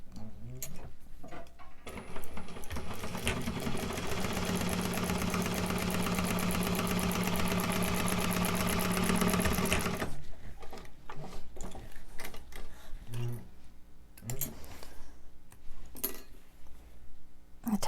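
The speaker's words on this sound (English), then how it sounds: "so we can top stitch the next one" A sewing machine top stitches a wristlet in one steady, close run of rapid ticking needle strokes lasting about eight seconds, framed by quieter handling clicks and rustles before and after.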